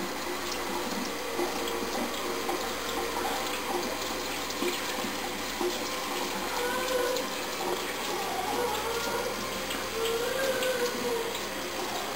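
A tap runs steadily into a sink while hands are washed, giving a loud, continuous, close splashing rush with no break.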